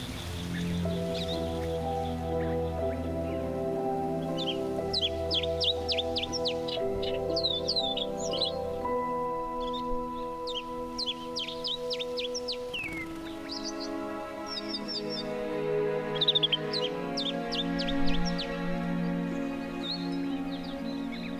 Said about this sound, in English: the cliffs are alive with birds